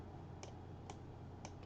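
Three faint, evenly spaced computer mouse clicks, about half a second apart, over a low steady room hum, with no talking.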